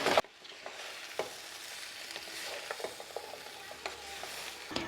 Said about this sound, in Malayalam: നന്നായിട്ടൊന്ന് മിക്സ് ചെയ്യുക